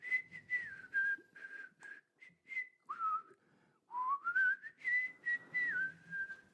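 A person whistles a jolly tune alone, with clear, close, bright notes in short phrases, a few sliding pitches and brief pauses between runs.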